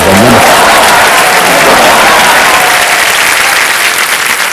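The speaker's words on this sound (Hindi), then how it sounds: "ताली तो बजा दीजिए" Studio audience on the Kaun Banega Crorepati game show breaking into loud, sustained applause, a dense wash of clapping that stays strong throughout.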